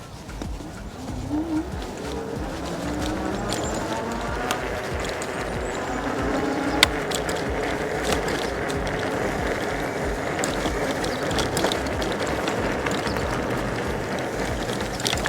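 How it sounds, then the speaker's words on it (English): A Senada Herald Pro electric bike with its front suspension locked out rattles and thumps over a bumpy trail, giving a continuous rough rumble with scattered sharp knocks and no talking. "Now I'm going to do the rough terrain test. This trail is bumpy."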